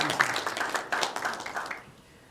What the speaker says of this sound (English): A quick clap for you